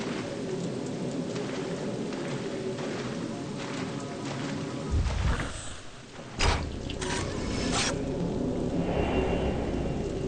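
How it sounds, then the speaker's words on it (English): Steady pouring rain in the mountain setting of Project Zero: Maiden of Black Water, a dense continuous hiss with a couple of short thunder rumbles midway, heard alone without talk. "Walking around this goddamn mountain in water, pouring rain all the time."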